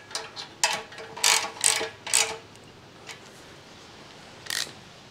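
A ratchet tightens the bolts on the front fork of a Yamaha 100 Trailmaster in several short bursts of clicking, with pauses between them and one more brief burst near the end. No one speaks.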